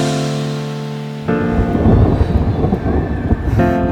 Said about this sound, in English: we're in the middle of a storm